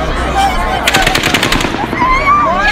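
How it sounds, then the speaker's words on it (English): Rapid automatic gunfire from an outdoor mass shooting, heard as a dense burst of repeated shots about a second long, followed by an echoing rumble and faint background noise. "That was 10 rounds each, for a total of 30 shots."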